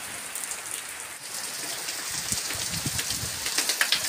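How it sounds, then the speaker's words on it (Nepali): Steady rain falls outdoors over a vegetable garden, a dense hiss with scattered nearby drops pattering on surfaces, growing slightly heavier toward the end, with no voices. "पर्यो पर्यो, पानी पर्यो।"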